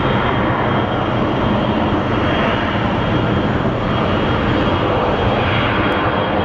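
A jet airliner at Phoenix Sky Harbor Airport roars loud and close, a dense continuous engine rumble and hiss holding steady throughout, with no voices.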